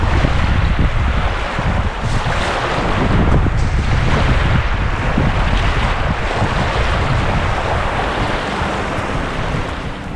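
Steady, rushing lake water with waves washing continuously along the shore, broad and loud, with wind buffeting the microphone throughout, at Waterton Lakes National Park, Alberta, Canada.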